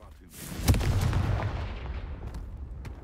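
A Confringo fire spell blast from Hogwarts Legacy booms sharply, with a rolling low rumble that lingers and slowly fades over a few seconds, heard alone.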